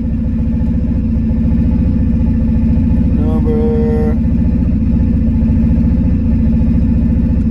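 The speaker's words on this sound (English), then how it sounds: "it's idling at 1500" A Mitsubishi Eclipse engine idling steadily around 1500 rpm under Speeduino stepper-motor idle control, a close, loud, even rhythmic putter throughout with a brief higher tonal whine partway through.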